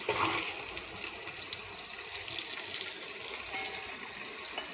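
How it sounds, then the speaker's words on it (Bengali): Soft paneer is dropped into a bowl of water in a home kitchen, giving a continuous close hiss of splashing and running water that fades slightly, with no talking. "এখন আমি এবার পনির জলে দিয়ে দেবো।"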